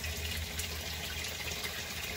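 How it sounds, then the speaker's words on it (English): Water running through a 1.5-inch pipe and pouring into a 4-inch stilling well of an aquaponics settling tank, a steady close rushing and splashing with no pauses and no voices. "That water flowing through that inch and a half pipe goes into this four inch diameter stilling well"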